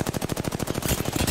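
Rapid automatic gunfire from a shooter video game, one continuous burst of evenly spaced, loud, close shots with no pause.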